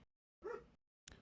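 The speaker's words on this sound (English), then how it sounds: "I apologize for the barking" A dog gives two short, faint barks about half a second apart, heard alone at a distance in an otherwise quiet room.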